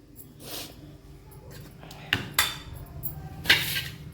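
Snack batter being mixed with chopped onion, coriander and green chili in a bowl, giving a few sharp utensil clinks and knocks against the rim amid soft stirring, fairly close and moderately loud.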